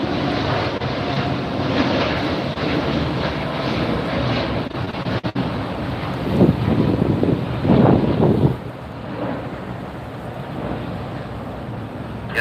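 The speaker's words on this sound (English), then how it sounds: "Japan Airlines, 787-9 Dreamliner" A Japan Airlines Boeing 787-9 Dreamliner at LAX airport produces a broad, steady jet roar with wind buffeting the microphone, swelling briefly louder toward the middle before easing back.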